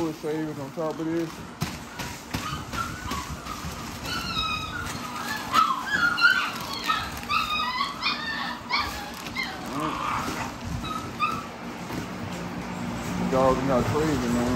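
Several XL pitbulls in a backyard bark and whimper in scattered bursts, with a person talking intermittently over the dogs.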